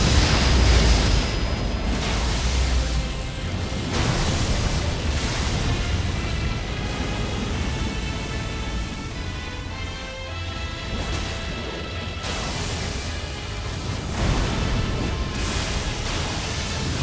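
Boss explosion in the Elden Ring video game, with the Hand of Malenia fighting a remembrance boss: heavy continuous rumbling blasts and crashing bursts that hold loud throughout, with repeated surges.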